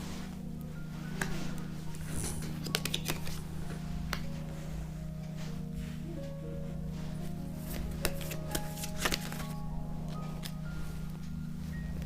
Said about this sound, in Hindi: कार्ड्स निकालते हैं।